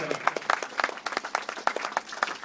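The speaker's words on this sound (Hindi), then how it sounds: "आप सब ताली बजाकर स्वागत और सम्मान करें।" An audience at a devotional gathering claps in welcome for an honored guest, a lively, uneven patter of hands at moderate distance, with a voice faintly audible beneath.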